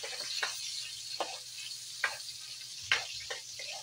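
Garlic and onion sautéing in a pan at home give a steady, quiet sizzle, with light stirring ticks and clicks scattered throughout.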